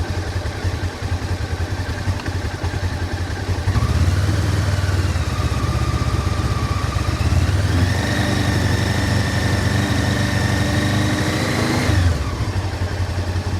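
Motorcycle engine is revved from idle up to about 3,000 RPM and held steady, a close, continuous drone that rises around four seconds in, sits higher for several seconds, then drops back toward idle near the end.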